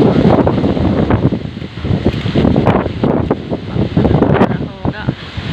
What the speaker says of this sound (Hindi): ठंडी हवा चलना शुरू हो गई